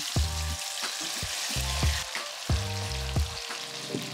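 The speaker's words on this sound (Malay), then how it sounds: "Goreng pula tahu dan kentang." Tofu and potatoes crackle and sizzle steadily in hot oil, with a low droning tone pulsing underneath at a close distance.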